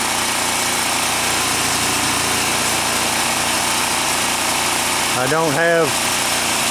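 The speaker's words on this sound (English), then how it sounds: "I got it running a generator right now." Generator engine running on charcoal gasifier gas, a steady close engine drone throughout, with someone speaking briefly near the end.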